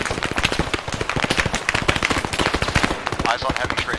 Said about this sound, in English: Eyes on heavy tracing fire.